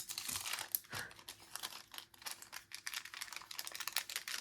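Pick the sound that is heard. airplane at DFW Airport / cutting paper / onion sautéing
cutting paper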